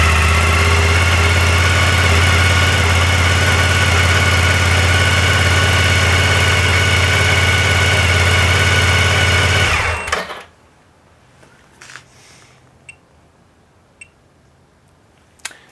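A motorcycle engine, fed by a DIY lithium iron phosphate battery, runs loud and steady at idle with a dense mechanical buzz for about ten seconds, then cuts out abruptly, leaving near silence with a few faint clicks.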